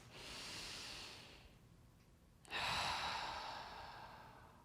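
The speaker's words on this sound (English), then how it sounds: "Now we take the big breath." A big deep breath taken by an adult beside a upset child, a long airy inhale followed by a stronger rushing exhale, close and soft, with no talking.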